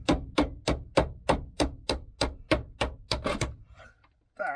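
A chisel struck by a hammer to pry a rusted sill off a Land Rover Discovery 300 Tdi three-door, about a dozen sharp, evenly spaced metallic taps, followed by a brief voice.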